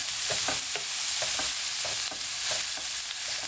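Cheap minced beef being mashed and browned in a hot pan for chilli con carne: continuous loud sizzling with repeated scraping stirs of a utensil, close up, no voices.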